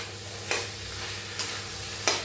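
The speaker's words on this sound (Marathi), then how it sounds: "प्रमाणे मीठ टाकूया आणि हलवून घेऊया। हलवून सगळ्याला मिक्स करूया।" Sprouted moth beans with salt being stirred in a pan for a Maharashtrian usal, a low steady sizzle with three distinct scraping strokes spaced apart, no talking.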